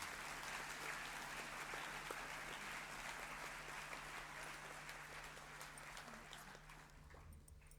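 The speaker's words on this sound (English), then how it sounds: "A big round of applause for these fine young men." Applause fills a school Year 12 graduation assembly as a crowd claps steadily for a group of young male graduates, a dense continuous patter that slowly thins toward the end, with a steady low hum underneath.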